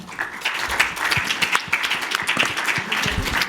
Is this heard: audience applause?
yes